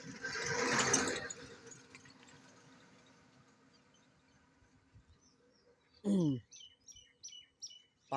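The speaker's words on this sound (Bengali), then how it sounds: "পাখির ডাকে একবারে মুগ্ধ হয়ে যাচ্ছি।" Birds call around a Bengal village lane, a short burst of rapid chirps followed by several quick, fairly clear tweets near the end, after a louder rushing noise at the start fades into quiet.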